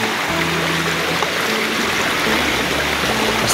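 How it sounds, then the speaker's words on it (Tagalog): A strong river current rushes by in a dense, steady roar of flowing water, close and loud throughout with no break. "Malakas na yung agos ng tubig"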